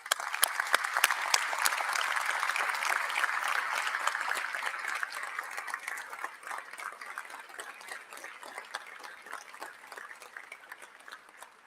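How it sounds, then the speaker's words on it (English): An audience at a conference applauds scholarship recipients, steady dense clapping from a sizeable crowd that gradually thins and fades over about ten seconds, with no talk over it. "Stand, and let's give them applause."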